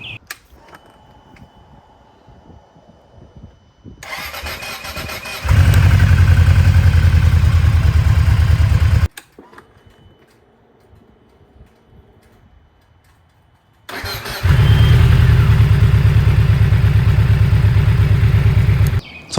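A 2020 Yamaha VMAX 1700 motorcycle is started twice, first cold and then warm. Each start brings a whirring starter clatter and then a loud, deep engine rumble lasting a few seconds, with a quieter pause between the two starts.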